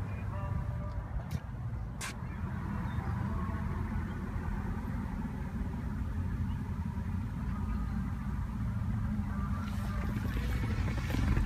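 A 2016 Chevrolet Camaro 2LT RS coupe engine runs at a steady, low idle throughout after starting, with a couple of brief clicks near the start.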